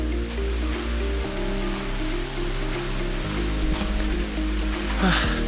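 A steady rushing roar of a waterfall in the Nilgiris hills near Kotagiri, loud and continuous with a low rumble underneath and no talking.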